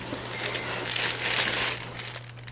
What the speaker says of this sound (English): The plastic bag.